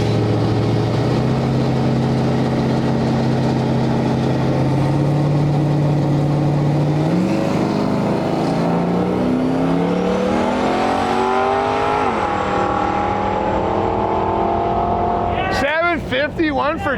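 An LS turbo-swapped Cutlass and a green Mustang make a drag racing pass, with loud engines rising through gear changes as they accelerate away. A brief close revving burst comes near the end, and people can be heard talking over the engine noise.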